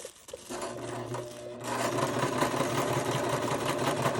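A sewing machine runs close by with a steady mechanical whir. It starts briefly, then speeds up into a continuous stitching drone with no talking.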